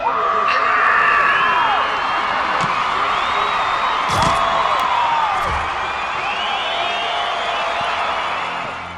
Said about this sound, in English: listens to the audience cheer him on